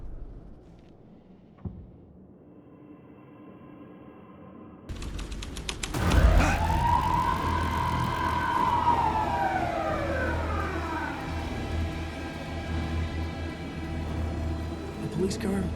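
A police car siren in the video game Alan Wake 2 starts suddenly and sweeps up and down in a loud, close wail, sustained over low rumble and game sounds.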